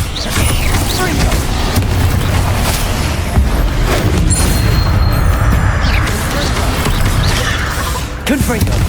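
Continuous crashing blasts and rumbling booms from Confringo spells in a Hogwarts Legacy battle, loud and dense throughout, with voices occasionally heard amid the chaos.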